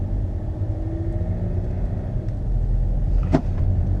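A car engine idles steadily while warming up, a low continuous rumble heard up close with a slight rise in level partway through and a brief click near the end.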